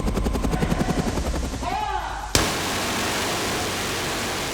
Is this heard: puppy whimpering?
no